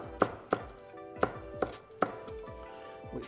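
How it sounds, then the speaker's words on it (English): A knife chops a large fresh green chili on a board in five or six sharp, evenly spaced chops, close and clear with no talking. "I just need to chop some fresh green chili"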